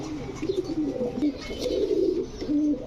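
Pigeons coo softly in repeated low burbling calls, close by amid a light background murmur.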